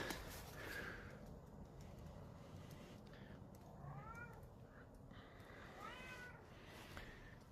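A cat meows twice, drawn-out rising and falling calls over a steady background hiss, with a fainter mew near the start.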